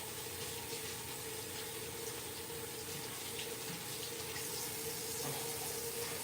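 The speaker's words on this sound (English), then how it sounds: "We're going to do our first round rinse" A faint, steady stream of tap water runs continuously while a makeup brush is rinsed in it, and no one speaks.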